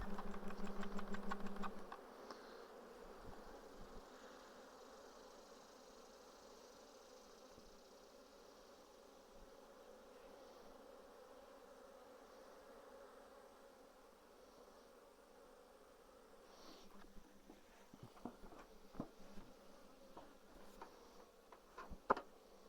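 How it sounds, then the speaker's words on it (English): A dense swarm of honeybees hums steadily around a beehive honey super, a faint, even buzz that carries on throughout with a few soft knocks near the end. "There's a lot of bees on there."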